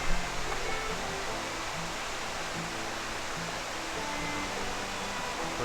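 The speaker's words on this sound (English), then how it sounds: "Listen to that water." Water flows steadily in a continuous, even rush, like a creek running nearby, with no voices over it.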